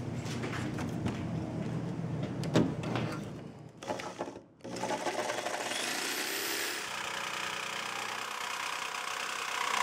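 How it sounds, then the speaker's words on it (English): A jigsaw with an 18 TPI bimetal blade cuts a window into a Corsair 200R midtower case side panel, whirring and buzzing steadily and loudly, with one brief stop before the cut resumes. "I'm using my jigsaw here with a bimetal cutting blade"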